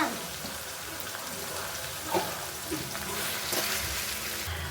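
Ingredients for sago upma fry in a pan with a continuous crackling sizzle, broken by a few scraping stirs and light clatters, close and even in level throughout.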